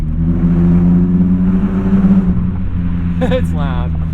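A BMW E36 M3 with an automatic gearbox drones loudly in a tunnel, its engine and exhaust holding a steady low rumble that swells, then fades as a short chirp and whir cut in near the end.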